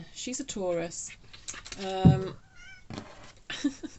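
A pet cat named Bianca meows several times, short bright calls mixed in with someone talking nearby, one louder meow standing out mid-clip.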